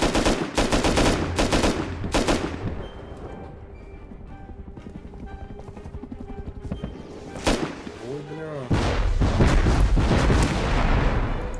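Gunfire in the Rust video game as players shoot down a passing helicopter, several loud rapid bursts of shots with gaps between them, a steady mechanical hum in the quieter middle stretch and a heavy final barrage.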